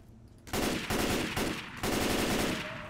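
Rapid automatic gunfire blasts at zombies in the Left 4 Dead 2 video game, loud near bursts with a brief pause between strings of shots.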